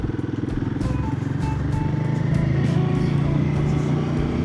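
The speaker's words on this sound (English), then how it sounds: "I'm taking it very easy, and the engine's behaving quite well." A Royal Enfield Guerrilla 450 single-cylinder motorcycle is ridden gently, its engine giving a steady, throbbing drone that stays close and loud throughout with light wind noise.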